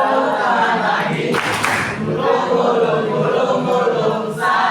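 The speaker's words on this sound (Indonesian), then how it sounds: "Tepuk tangan lagi." Hands clapping in a group children's song activity, a short burst of claps around the middle and another near the end over continuous singing voices.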